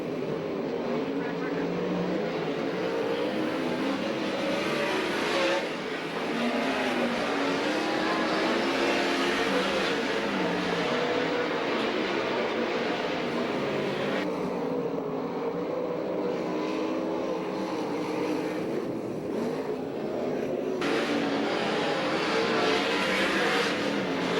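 USAC/CRA sprint cars racing at Alger, Washington, their engines roaring continuously with rising and falling pitch as they lap the track, a race announcer talking over the noise.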